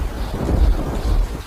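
Rumbling thunder with steady rain in a Hindi animated cartoon story, a continuous low roll filling the short stretch without any talk.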